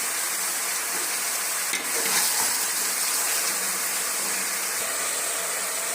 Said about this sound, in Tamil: உப்பு சேர்த்து வதக்கி விட்டுக்கலாம்.